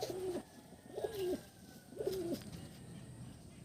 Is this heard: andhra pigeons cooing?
yes